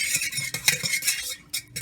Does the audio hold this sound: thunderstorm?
no